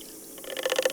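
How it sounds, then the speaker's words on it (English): ATS carbon cleaner glugs from its can into a car's fuel tank, starting quiet and building into rapid, irregular gurgling pulses of liquid close by. "We're going to pour it in the tank, and it goes."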